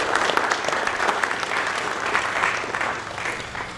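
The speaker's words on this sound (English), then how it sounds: "Let's give him a nice round of applause." An audience at an awards ceremony applauds, a dense, steady round of clapping from many hands that fades slightly toward the end.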